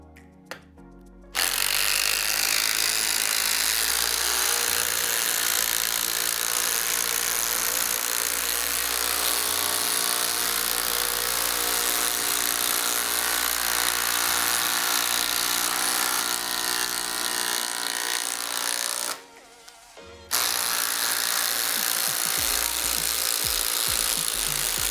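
A Makita subcompact impact driver hammers 8-inch timber locks into stacked OSB over a 2x4, a loud, continuous rattling whir that runs for long stretches, briefly stops, then starts up again.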